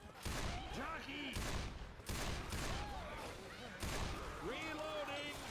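Rapid bursts of video game gunfire from a notoriously overpowered gun, loud and continuous with brief gaps, mixed with in-game effects and a few tonal chirps and whistles.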